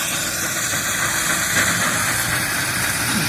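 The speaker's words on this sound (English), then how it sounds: "heat it up, create that steam, which is then converted out of your flue cavity there to into the engine, give you that power" A steam traction engine runs at a threshers reunion, giving off a loud, continuous hiss and chuffing rumble up close, steady throughout with no talk.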